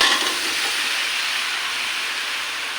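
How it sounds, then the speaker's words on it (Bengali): Onion paste and bottle gourd go into a pan of frying fish, giving a steady, loud, close hiss of sizzling oil that starts strongest and holds without a break. "এখন আমি আগে থেকে তৈরি করে রেখেছিলাম পেঁয়াজের কালি আর লাউ, এখন সবগুলো দিয়ে দিব"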